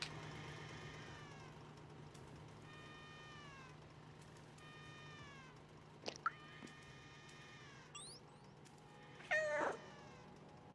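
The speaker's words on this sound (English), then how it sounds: "Sounds like some tiny meowing somewhere." Faint, tiny cat meows repeat at intervals in the video game Stray, over a quiet steady hum, followed by a few sharp game sound effects near the end; no talking.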